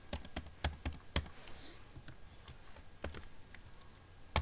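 Rapid typing of a MongoDB find command on a computer keyboard, with a dozen or so sharp, close key clicks falling in uneven bursts, clear and alone.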